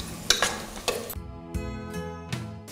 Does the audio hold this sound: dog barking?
no